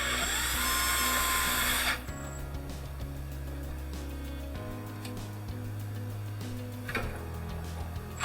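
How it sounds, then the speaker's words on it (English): A power driver fitted with an Allen insert drives bolts into an axe handle mold, a loud high whirring burst at the start, then lower motor hums changing pitch as the bolts turn down, close and without talk. "use my driver with the proper Allen insert on that and actually drive this down loosely"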